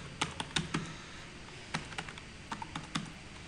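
Keystrokes on a computer keyboard as a password is entered, a scattered series of sharp, quiet clicks in irregular bursts with brief pauses, no voices.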